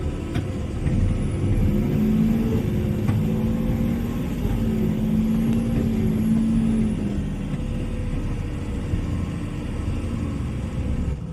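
A truck reverses along a rough path with a steady, loud engine rumble and drone throughout, a faint tonal whine riding over it, and no talk.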